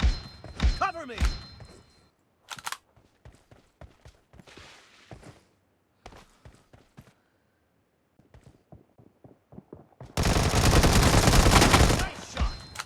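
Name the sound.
gunshots in PUBG Mobile video game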